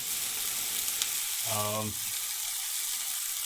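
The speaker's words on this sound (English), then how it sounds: "We need a little bit of that sizzle going." Chole and jalfrezi-style meatballs fry in a pan with a steady, close sizzling hiss, interrupted briefly by a short low hum.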